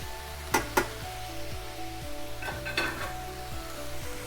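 Garlic being stirred into vegetables sizzling in a pot for beef stew, a steady frying hiss with a few soft scrapes and light clinks of the spoon against the pot.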